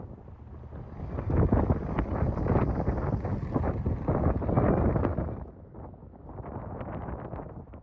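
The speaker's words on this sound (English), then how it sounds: "There goes the water taxi." A water taxi boat at Laughlin, Nevada rumbles past amid heavy wind buffeting the microphone, the low churning noise swelling and then easing off toward the end.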